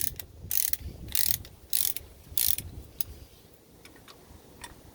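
A hand-cranked brake caliper piston compressor tool, used while changing front brake pads on a 2019 RAM 1500 Limited, clicks and ratchets in several close bursts, followed by fainter scattered ticks.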